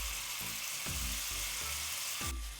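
Pork chops browning in a pan with serrano sauce, garlic and chunks of serrano, giving a steady broadband sizzle with a few soft knocks and pops underneath, close and fairly quiet, with no talking.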